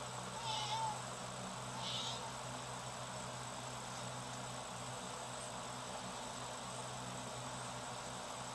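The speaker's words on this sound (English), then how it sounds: "Yes, I hear you, cat." A cat meows twice, faint and a little distant, over a steady low hum of equipment in a room where silver is being refined with nitric acid, then only the hum continues.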